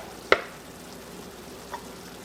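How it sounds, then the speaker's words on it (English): Sauce with sriracha simmering in a pan, a faint steady sizzle with one sharp clink early on and a softer tap later, close and quiet without talk. "we're supposed to let this simmer for 10 minutes"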